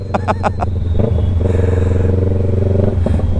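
A motorcycle rides a rough, uneven road, its engine rumbling steadily close by with rattling clatter and bumps over the surface; the engine note rises and holds for a stretch before easing off.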